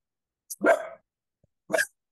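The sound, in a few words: cockapoo dog barking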